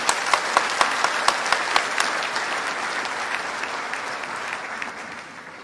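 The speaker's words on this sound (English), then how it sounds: "Let's give a big applause for Gwen." Audience applause at a Social Business Day event with Dr Yunus, a steady wash of many hands clapping with a few sharper claps near the start, gradually fading over several seconds.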